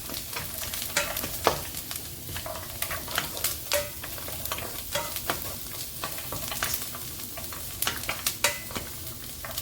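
Roasted cashew nuts tumble into a pan of green peas kurma, with steady sizzling frying and repeated clattering stirring strokes close by, no voices.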